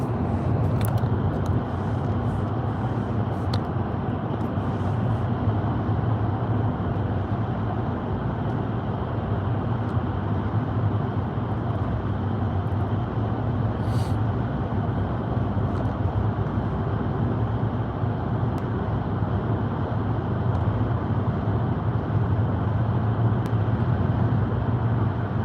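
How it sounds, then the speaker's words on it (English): A steady rumble of road traffic heard from inside a car stuck in congestion on an American highway, a continuous low drone with no pauses from start to finish. "This traffic is crazy."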